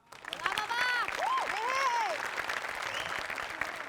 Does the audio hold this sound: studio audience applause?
yes